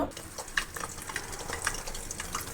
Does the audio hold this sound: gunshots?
no